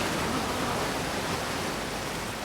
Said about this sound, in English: The waterfall is so deafening.